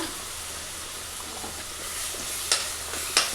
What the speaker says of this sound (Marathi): मसाला टाकायचा थोडस भाजूया आपण